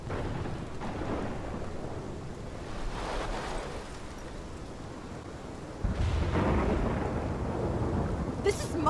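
Thunderstorm in the game Life is Strange: deep rolling thunder rumbles continuously over steady rain, swelling in waves with a heavier crack partway through, loud and enveloping with no talk.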